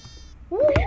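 A sheep bleats in a video game: a single short, rising-and-falling bleat arrives in the second half, loud and close, after a quieter stretch of background game sound.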